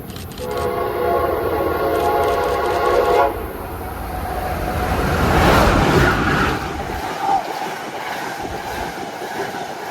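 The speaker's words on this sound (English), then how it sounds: "Amtrak train number 54 is quickly making time up the Northeast Corridor with two ACS 64s leading the Vermonter" An Amtrak Vermonter passenger train led by two ACS-64 electric locomotives sounds its horn in several blasts on the Northeast Corridor in central New Jersey, then roars past at speed with a loud, rushing rumble of wheels and cars.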